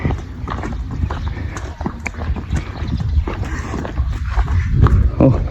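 A water buffalo pulls a cart through a quiet Lao village, its hooves clopping unevenly beneath rumbling cart noise and background sounds, with people talking at times.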